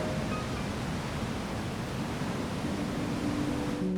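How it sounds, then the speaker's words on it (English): Ocean waves wash steadily against the Maine coastline on a calm day, a continuous broadband rush of surf with no breaks and no voices. "all I can hear is the waves, even though it's not a rough day"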